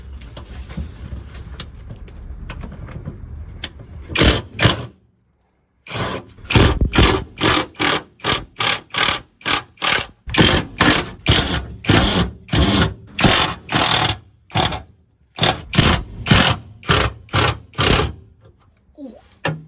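Cheap impact wrench working on the exhaust bolts of a Mini Cooper R50, up close and loud: a steady rattle at first, then a long run of short hammering bursts separated by brief pauses, with no talk.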